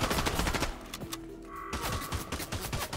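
A rapid-fire gun in a Fortnite solo match rattles off a steady stream of sharp, loud shots with a few brief pauses, dense and close throughout.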